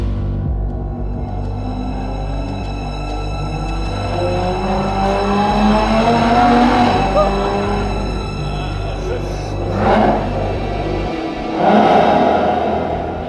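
A Lotus car's 3.5-litre supercharged engine rumbles and revs, staying below about 4,000 rpm on an ordinary road, rising and falling under someone speaking.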